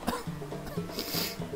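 A person coughs repeatedly at close range, a rapid series of harsh, throaty bursts over a card game of Uno, loud and unaccompanied by speech.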